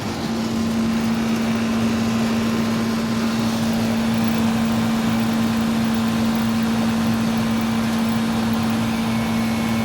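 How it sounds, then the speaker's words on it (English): A failing air-conditioner condenser fan motor gives off a steady, loud electrical hum with a constant tone, accompanied by a continuous mechanical drone running unchanged throughout. "it sounds like the condenser fan motor is going bad"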